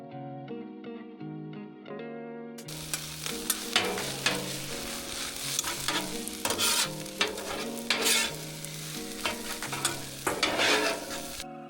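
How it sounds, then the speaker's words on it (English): Eggs scrambled on a Blackstone griddle for Benihana-style fried rice, a steady sizzle with busy scraping and stirring over melodic background music, starting after a short music-only opening. "Drop them in, scramble fast, then fold them into the rice."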